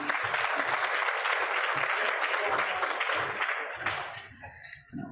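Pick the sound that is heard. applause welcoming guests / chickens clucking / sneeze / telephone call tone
applause welcoming guests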